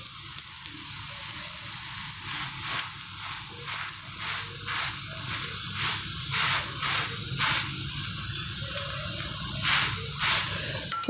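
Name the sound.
oil poured into holes of dhapate flatbread sizzling on pan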